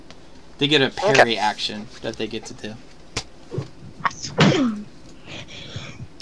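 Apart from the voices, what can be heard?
sneeze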